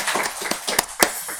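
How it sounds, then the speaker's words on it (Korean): Church congregation clapping in praise: a short, sparse run of scattered hand claps with a few sharper louder claps, fairly close. "우리 박수로 하나님께 다시 한번 영광 돌리겠습니다"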